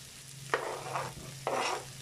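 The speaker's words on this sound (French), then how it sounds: "On incorpore les courgettes." Courgettes tipped into a pan of frying rice, with two soft stirring sweeps over a quiet, steady sizzle and a low background hum.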